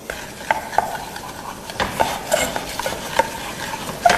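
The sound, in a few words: wooden spatula stirring roux in pot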